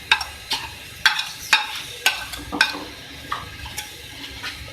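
Garlic and ginger paste frying in a pot while a spoon scrapes and stirs it, giving irregular close metallic clinks over a soft sizzle, with no talking.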